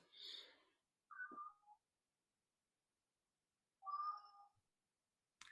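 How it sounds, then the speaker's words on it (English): A pet cat meows three times with long silent gaps between calls, close and fairly quiet, each meow a short rising-then-falling cry with no talking. "You've got your cat there."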